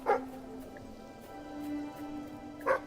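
A dog in the video game Fable 3 gives two short, close barks, one at the start and one near the end, with a steady low game tone running underneath.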